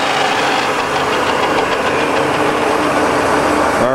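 A Cincinnati Cinova 80 universal milling machine runs with a steady, loud mechanical drone and a rhythmic knocking pulse throughout, with no talk over it.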